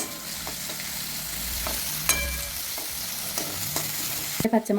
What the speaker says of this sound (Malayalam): വീണ്ടും നമ്മൾ ഇളക്കിക്കൊണ്ടിരിക്കണം കേട്ടോ